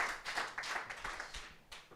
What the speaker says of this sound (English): Round of applause for the Trumpy Bar.